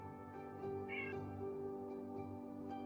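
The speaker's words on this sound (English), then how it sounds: "You hear a cat in the Wayshield headquarters." A small cat meows once, then a quieter second call, heard over a steady hum of background music during a tabletop role-play session set in a guild headquarters.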